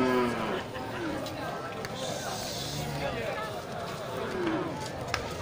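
Aceh cattle at a busy livestock market, their moos rising over a dense hubbub of crowd chatter and shuffling, with a voice talking nearby.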